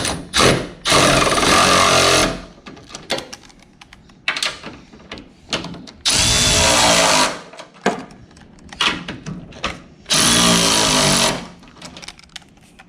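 Impact wrench or power tool tightening strut bar nuts on an 8th-gen turbo Honda Civic Si, three loud sustained bursts of about two seconds each separated by quieter clanks and shop noise.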